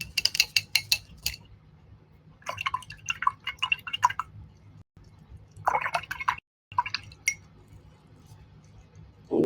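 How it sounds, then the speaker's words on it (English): A paintbrush rinsed in a water jar during an acrylic painting session, giving a run of quick clinking taps and dripping splashes against the container in irregular bursts, close and fairly quiet, with short pauses between. "I'm going to wash my brush."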